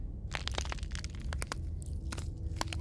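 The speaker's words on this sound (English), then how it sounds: "I hate that crunching" Wet, grinding crunches and cracks from the Slay the Princess video game, a dense run of sharp crushing bursts over a rumbling low drone, loud and close with no talking.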